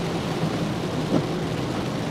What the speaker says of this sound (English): And the rain is not letting up.